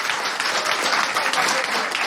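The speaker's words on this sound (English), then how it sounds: "there was a round of applause there for me" An audience at a town hall event breaks into dense, continuous applause, steady and fairly loud, with no clear speech over it.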